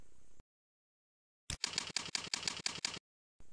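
Keys clatter on a keyboard as a password is entered, with about eight quick, even, close taps in a short burst, set between stretches of dead silence.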